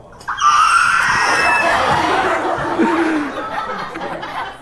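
A loud, drawn-out creaking, screeching noise of the Millennium Falcon door opening, shrill and wavering like many voices screaming at once, lasting several seconds before easing off.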